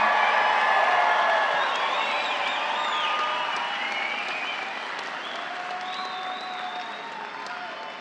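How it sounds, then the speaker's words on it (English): A commencement crowd gives a big burst of applause with scattered cheers and whoops. The sound is dense and sustained, then slowly fades over several seconds. "Their success, coupled with your pride, certainly calls for rousing applause. Whoop and holler if you like."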